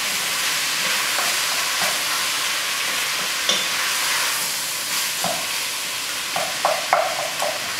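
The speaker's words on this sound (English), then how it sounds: "Take these awesome sausages, throw them in the pan. Awesome. Give that a stir as well." Sausages fry in a pan with a broad, continuous sizzle and hiss, broken by scattered scraping knocks as they are stirred, close and steady with no talking.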